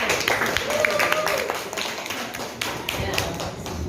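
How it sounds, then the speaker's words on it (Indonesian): Classroom of pupils clapping together for a classmate, a dense, steady burst of many hands close by, with voices mixed in underneath. "tepuk tangan untuk Fauzan"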